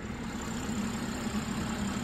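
A 2023 BMW X5 40i's 335-horsepower turbocharged inline-six idles at close range, a steady low rumble with a faint hum that holds evenly without revving.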